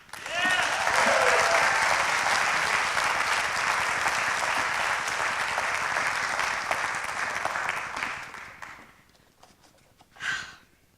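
An audience applauds loudly and steadily for about eight seconds before the clapping thins and fades out, followed by a brief voice near the end.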